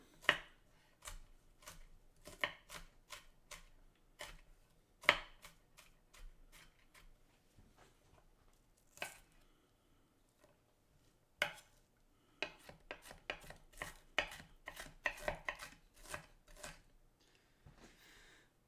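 A knife chops a yellow onion on a cutting board in a home kitchen, with quiet, uneven bursts of sharp taps separated by pauses. The taps cluster more densely toward the end.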